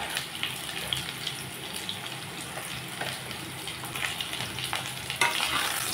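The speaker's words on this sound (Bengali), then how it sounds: "আবারও আমি 2-3 মিনিটের মতো ভেজে নেব।" Potatoes and pointed gourd fry in a pan with a steady sizzle, scraped and stirred now and then, with a brief watery splash near the end.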